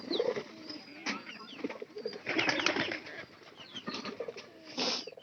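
Pigeons cooing in a home loft, several birds with soft repeated coos scattered across the clip, along with faint chirps and occasional wing flutters, moderately near with no talk.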